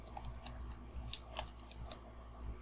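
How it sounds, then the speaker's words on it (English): Password keystrokes on a computer keyboard during an Office 365 sign-in, a quiet, irregular run of light clicks and taps over a steady low hum. "Click on next and then type your password."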